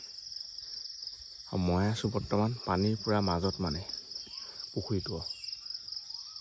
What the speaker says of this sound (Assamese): এতিয়া মানে পূৰা চৰাই চিৰিকটিবোৰে মাতি